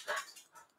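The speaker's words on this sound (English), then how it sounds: "there's a chihuahua barking outside" A chihuahua barks outside, a single short, faint yap with a brief trailing whine, heard from a distance.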